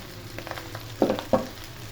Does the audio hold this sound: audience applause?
no